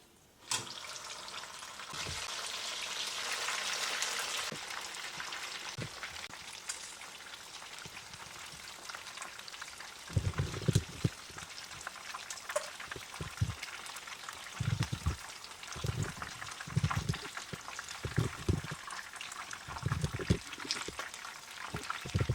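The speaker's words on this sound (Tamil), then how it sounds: "மறுபடியும் எல்லா லெக் பீஸையும் ஒரு பத்து நிமிஷத்துக்கு நல்ல கோல்டன் ப்ரௌன் ஆகிற வரைக்கும் ஃப்ரை பண்ணி எடுத்து வச்சுக்கோங்க" Chicken leg pieces fry a second time in hot oil until golden brown for Korean-style chicken, giving a steady, soft sizzle throughout with occasional louder thumps and clatters from handling in the second half.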